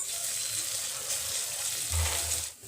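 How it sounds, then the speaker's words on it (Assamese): Ginger and garlic paste sizzles in a pan with fried onions for pav bhaji, a soft steady crackle with a brief louder burst near the end. "ইয়াত মই আদা আৰু নহৰু পেষ্টখিনি দি দিম।"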